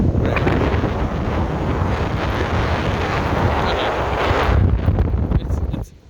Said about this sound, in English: It is windy as shit though.